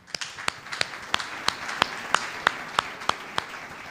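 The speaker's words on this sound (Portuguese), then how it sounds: "Cadê as palmas ao Senhor que nos sustenta até aqui?" A church congregation claps along in a steady rhythm, about a dozen sharp, evenly spaced claps over a soft bed of scattered hand noise, fairly distant.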